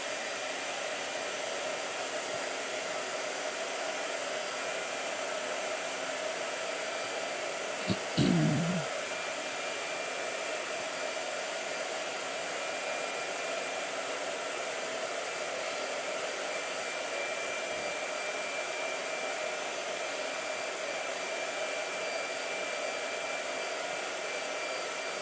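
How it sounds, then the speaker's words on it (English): A blow dryer runs steadily and close for the whole stretch, a constant broad whooshing roar with no pauses, broken only by a single brief low knock partway through. "blow dryer"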